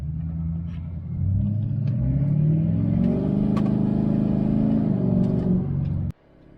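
A fully deleted LML diesel pickup truck's engine revs up from idle into a loud, sustained throaty rumble, holding steady for several seconds before cutting off abruptly, close to the microphone with no talking.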